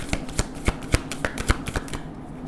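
A deck of tarot cards is shuffled in quick crisp riffles, close and distinct, over faint background hum.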